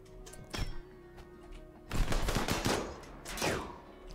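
Colonists firing guns in RimWorld: a short burst near the start, then two longer rattling volleys of rapid shots, loud and close, with no talk.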